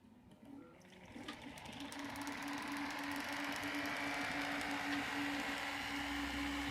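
The motor of a cylinder-style bubble machine spins up to about 3,000 RPM, rising from quiet into a steady, even whine that settles and holds, close by and fairly faint.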